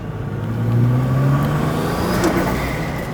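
Nissan GT-R engine revving up to about 3,500 rpm, a steady, moderately loud rising drone heard without talk.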